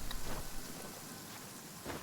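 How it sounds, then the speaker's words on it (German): Steady rain in the video game Genshin Impact, a soft, continuous hiss of falling drops with faint low rumble, quiet and without voices. "Es ist jetzt vor allem Regen."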